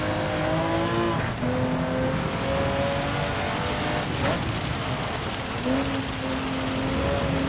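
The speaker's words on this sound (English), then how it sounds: "But the rain will probably stop soon" Rain falling during a wet race in Gran Turismo 7 at the wheel of a Porsche 917K, a steady hiss over the droning engine whose pitch climbs and drops with gear changes, continuous throughout.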